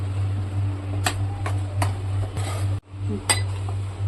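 Metal spoon knocking and clinking against a pan while stirring white pea curry with coriander in a home kitchen, a few sharp separate taps over a steady low hum.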